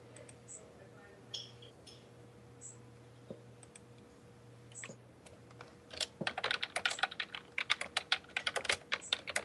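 Computer keyboard typing, quiet and sparse at first, then a dense run of rapid clicking keystrokes in the second half, close by with low background hum.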